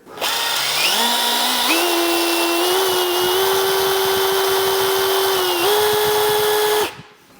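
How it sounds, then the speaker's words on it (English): A power drill whines steadily at high speed for several seconds, its pitch rising slightly as it bores a hole through a metal latch, loud and close, then stopping. "But I think drilling a hole through the latch is gonna be the ticket."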